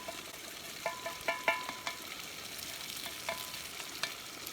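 A utensil scrapes and clinks in a camp pot of shrimp linguine with a broken handle, faint sizzling beneath, scattered light taps over a steady hiss, close and quiet, no talk.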